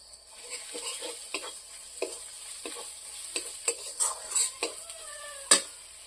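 Turmeric, coriander and Kashmiri chilli powder stir-fried in a pan, with a soft, quiet sizzle beneath a series of sharp scraping and clinking spatula strokes that grow more frequent toward the end.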